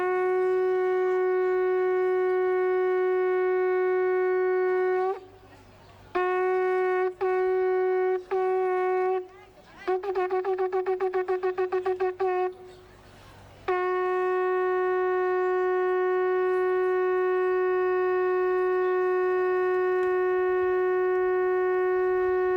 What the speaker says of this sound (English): here is a sound of a shofar being blown out in front of the gates of Jerusalem